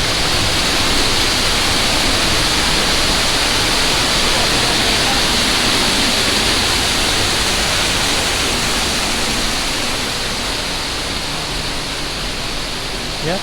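A steady, loud rush of falling water from a waterfall on Discovery Island at Disney's Animal Kingdom, a constant broadband roar heard up close with no talking.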